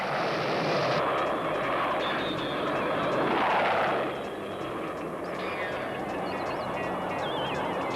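A cartoon spaceship's engines roar at liftoff, a loud, dense rumbling blast that swells to a peak midway and then settles into a steady, slightly lower roar, with a few faint tonal chirps over it.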